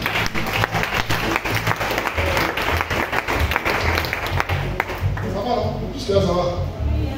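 A church congregation breaks into sustained applause to acclaim the Lord, dense clapping throughout with a voice speaking over it.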